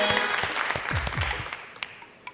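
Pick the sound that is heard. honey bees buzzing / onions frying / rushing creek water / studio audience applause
studio audience applause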